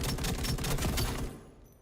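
Loud rapid gunfire from the sci-fi shooter game EVE Vanguard, sniper fire crackling in a dense burst that fades out after about a second.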